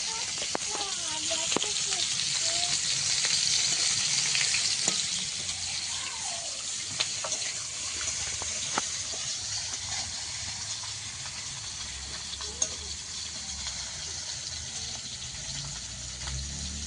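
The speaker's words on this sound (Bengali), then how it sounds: "এখানে মাছ ভাজা হয়ে গেছে।" Fish sizzles and hisses in hot oil on two stoves in a home kitchen, a steady frying crackle with occasional clinks, under intermittent talk.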